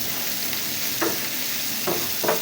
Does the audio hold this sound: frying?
yes